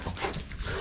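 Dogs panting and playing nearby, a soft rapid breathy panting with faint whimpering tones, close and quiet over a brief moment with no talking.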